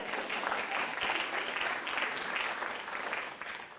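A laughter yoga group applauding themselves, a lively burst of many hands clapping steadily and close, easing off slightly at the very end.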